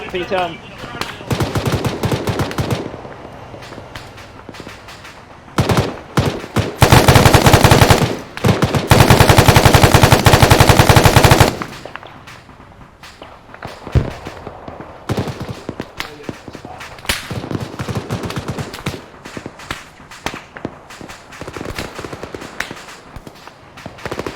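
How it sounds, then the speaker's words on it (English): Sustained automatic gunfire in an Arma 3 military battle against a BTR armored vehicle, close loud bursts and long continuous volleys with scattered single shots, with voices talking over the fire. "Shit, BTR on us."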